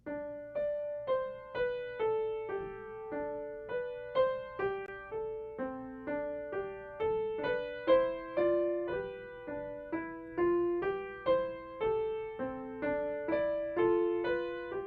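Solo piano plays a steady, simple melody with single notes and light chords, moderately quiet, evenly paced, no voices.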